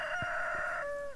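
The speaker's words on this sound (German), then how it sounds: "Kikeriki" Rooster crowing in the farming video game Stardew Valley, one sustained close cock-a-doodle-doo with a rising then falling pitch, clear and alone over a quiet background.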